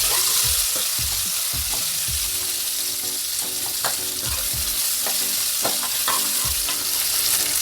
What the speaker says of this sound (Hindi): अब डाल देंगे 2 प्याज मीडियम साइज के कटे हुए।